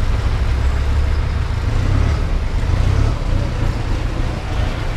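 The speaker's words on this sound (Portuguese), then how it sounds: "Vocês acompanharam aí o Renegade indo embora." A Jeep Renegade pulls away outdoors, its engine and road noise a loud, steady low rumble with no talk over it.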